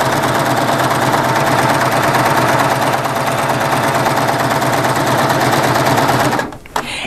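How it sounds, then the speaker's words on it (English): A Baby Lock serger running fast and steadily while stitching a chain, a loud even mechanical whirr with rapid rhythmic ticking that stops suddenly near the end. "And I'm just going to stitch now."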